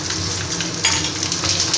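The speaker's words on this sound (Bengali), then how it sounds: "ভাজা তেলে আমি কালো জিরে কয়েকটা চেরা কাঁচা লঙ্কা করে দিলাম" Steady, close sizzle of black cumin and slit green chilies frying in hot oil left over from frying fish, a dense crackling hiss with small spits throughout.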